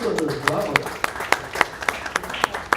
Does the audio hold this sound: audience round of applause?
yes